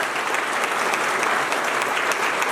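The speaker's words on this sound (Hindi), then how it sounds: "हम सब बहुत जोरदार तालियों से" An audience breaks into strong, dense applause at a religious gathering, the clapping steady and even for the whole short stretch with no pause.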